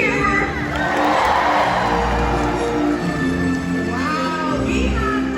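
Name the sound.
crowd cheering for a killer whale at an orca show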